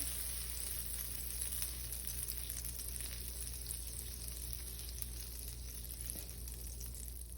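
A tablespoon of butter sizzles steadily in a hot pan as fried rice begins, a continuous close, even hiss with no talk over it.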